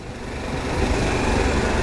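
Harley-Davidson Pan America motorcycle engine on a test ride, a dense continuous rumble with rushing wind noise, loud and close, steady throughout.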